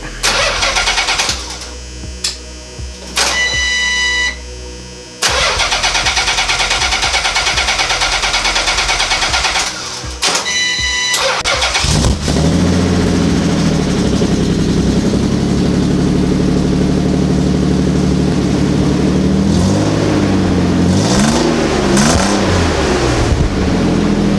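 Nissan 300ZX with a custom exhaust and no mufflers, cranking several times on a recently charged battery before it catches, then a loud, raspy idle with a few throttle blips, close up and without talk.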